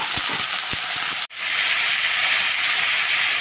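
Green chillies and chopped bottle gourd peel frying in oil in a pan, a loud steady hiss that briefly drops out as the ingredients go in, then returns as an even, brighter sizzle.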